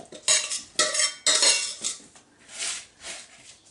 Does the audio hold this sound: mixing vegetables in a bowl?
yes